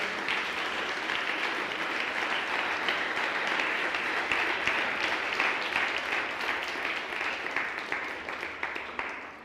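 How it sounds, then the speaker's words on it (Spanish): A church congregation claps loudly and steadily, a dense sustained wave of applause filling the room from start to finish without pause. "Denle un aplauso fuerte al Señor en esta hora."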